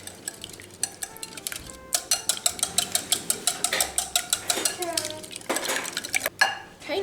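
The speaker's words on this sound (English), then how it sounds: "in here we're gonna put 8 eggs. Okay, we'll whisk these together." Eight eggs are whisked together in a bowl: quick, rhythmic metallic clinks and taps, close and fairly crisp, speeding into a steady beat before a brief clatter near the end.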